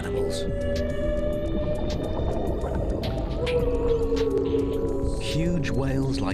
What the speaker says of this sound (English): Whales are some of the ocean's most awesome animals.